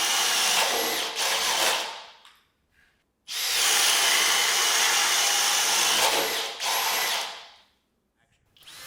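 A cordless hammer drill, Makita or Flex, bores holes in two loud sustained bursts of roughly two and three seconds each, separated by a brief silent pause, with a short third burst trailing off at the end; no talking.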